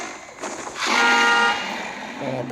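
A Minecraft car horn blares in one sustained honk, loud and close, with a shorter toot following after.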